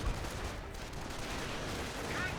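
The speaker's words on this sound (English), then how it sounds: "Take a bit of fire from the rifleman." Gunfire from a rifleman unit in the World War II strategy game Company of Heroes 1, heard as a dense, continuous crackle of distant shots under busy battle noise, with no clear separate reports.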